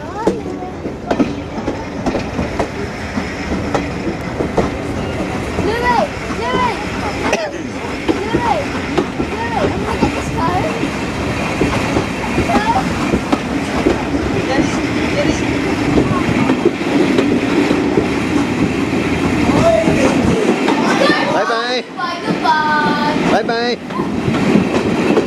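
West Somerset Railway steam locomotive 5542 on the Cambrian Coast Express pulls out of Washford station with a continuous rumble and rhythmic wheel clatter. A voice speaks over the running train.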